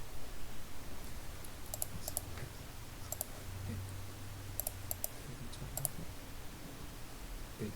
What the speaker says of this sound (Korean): 근태 보정 버튼을 눌러서 이제 결근 처리로 마감하겠습니다